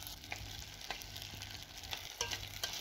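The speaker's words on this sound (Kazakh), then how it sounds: "жақсылап жуып алып, күрішімізді аз-маз 1 минут қуырамыз" Washed rice briefly frying in oil at the bottom of a deep pot, a soft steady sizzle with occasional stirring scrapes, close but fairly quiet and without speech.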